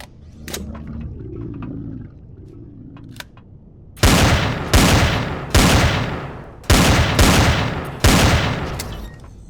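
Heavy weapons fire in the sci-fi survival game Empyrion: after a quiet stretch with small clicks, five loud, booming shots ring out in a fairly even rhythm, each trailing off in a rumbling decay.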